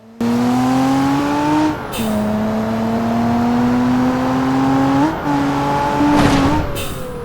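An Alfa Romeo Giulia engine in the BeamNG Drive driving game, a loud steady drone climbing slowly in pitch through gear changes, with brief dips between shifts and a noisy burst near the end.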